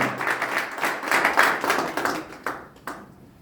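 An audience applauds Sylvain Aubame, with many hands clapping in a loud, steady burst that swells, then thins to a few last claps and fades out.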